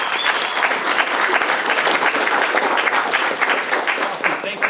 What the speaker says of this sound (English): Thank you so much for that warm round of applause